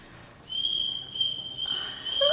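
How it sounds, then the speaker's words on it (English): A faint, steady whistled tone holds one pitch, then moves to higher short notes toward the end. It sounds distant and quiet against a low indoor background with no talking. "is that whistling?"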